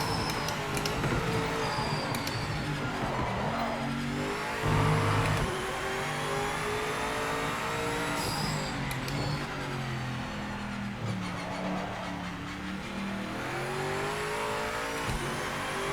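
A race car laps Imola in the Project Motor Racing game, its engine revving up through the gears and dropping on downshifts, with close steady engine roar and brief tire squeal throughout.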